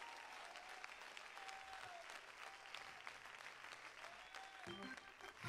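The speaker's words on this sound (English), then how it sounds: "Somebody clap your hands and give him praise." A church congregation claps its hands in praise, a dense, steady roll of clapping heard faint and distant with some voices underneath, ending in a brief low thump.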